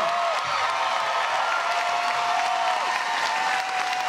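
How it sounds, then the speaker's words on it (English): A concert crowd at Walt Disney World's EPCOT Eat to the Beat series claps loudly and continuously for a show, with scattered cheers and a whistle rising above the steady applause. "So please, give him a warm round of applause."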